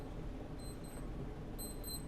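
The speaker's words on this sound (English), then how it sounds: "my alarm's going off" An alarm clock goes off in faint repeated high electronic beeps, two short bursts separated by a pause, over a low steady background hum.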